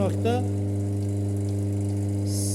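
A single-phase induction motor under a torque test hums steadily with a strong low tone and buzzing harmonics; a brief voice is heard at the very start.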